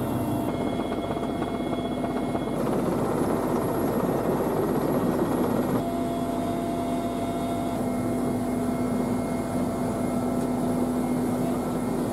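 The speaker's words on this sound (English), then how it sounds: "Mi-17 helicopter." Mi-17 helicopter flying, a continuous loud rotor and turbine drone with a steady tonal whine, constant throughout with no speech.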